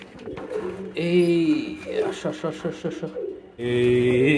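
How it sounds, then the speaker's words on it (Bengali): Pigeons at Ishan Mistri Hat pigeon market in Chattogram, an adult female among them, give soft repeated cooing and calls close by, mixed with steady talk and market bustle throughout. "এটা হচ্ছে একটা অ্যাডাল্ট মাদি কবুতর"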